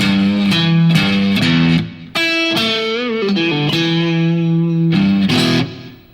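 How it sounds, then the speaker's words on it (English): Electric guitar played through an amplifier with light blues overdrive, close and loud, with sustained chords and bent, ringing notes that stand alone with no voice. "Little bit of blues overdrive."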